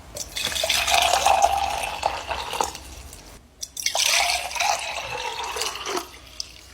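Water is poured into two glasses in turn, one holding cold water and the other hot, each a steady close splashing stream lasting a few seconds with a short silent gap between them.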